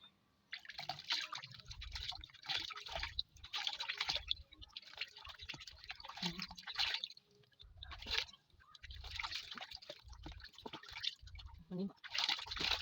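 A coffee face mask being rinsed off with water, splashing and dripping in repeated bursts with pauses between them, close and fairly quiet.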